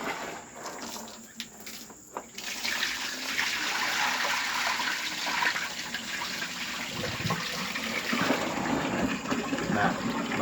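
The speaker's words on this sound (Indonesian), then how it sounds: "kita buang airnya." Rinse water holding loose hulls is poured off soaked soybeans during tempeh making: a steady splashing, gushing pour that starts after a couple of seconds of quieter handling and runs on, close and fairly loud.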